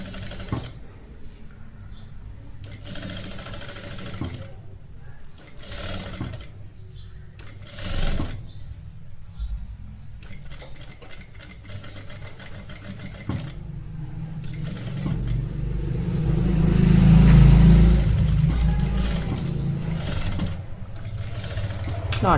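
A sewing machine stitches the edge of a royal blue lehenga saree in a steady, close whir that runs in bursts, stops now and then, and swells louder toward the end.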